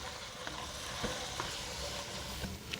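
Beef keema frying in a karahi with ginger garlic paste and green chilies gives a steady, soft sizzle with faint clicks of stirring and no voices.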